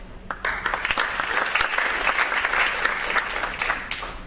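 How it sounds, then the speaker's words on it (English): A short burst of audience applause at a high school National Honor Society induction ceremony, a room full of hands clapping briskly for about four seconds with a few sharper individual claps standing out. "please hold your applause until I have read about each student"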